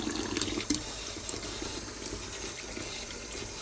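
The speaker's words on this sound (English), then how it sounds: "Give that a rinse first before I put the coffee pod in." Tap water runs steadily over a coffee machine part as it is rinsed before a coffee pod goes in, a close, continuous splashing rush with a brief clatter near the start and no talk.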